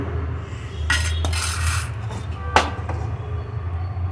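Fried chana dal is scraped from a pan onto a plate with a metal utensil, producing close clinks, scrapes and a sharp clatter over a low steady hum.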